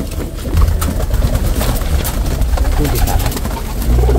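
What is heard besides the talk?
racing pigeons cooing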